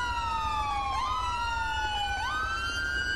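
An emergency vehicle siren gives a quick check, a loud steady tone sweeping downward and then jumping back up twice in regular cycles, close and alone with no talking.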